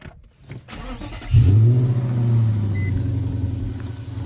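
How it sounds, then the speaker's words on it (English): Infiniti M45 V8 engine starting: a starter crank, then the engine catches with a sharp rise and settles into a smooth, steady idle rumble, close and moderately loud, with no talk. "Let me go ahead and turn on the car so you guys can hear the engine."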